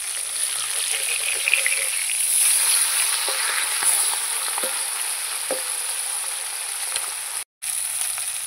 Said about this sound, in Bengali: মাছগুলো ভাজা হয়ে গেছে, আমি তুলে নেব